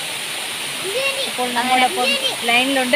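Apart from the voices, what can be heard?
waterfall rushing water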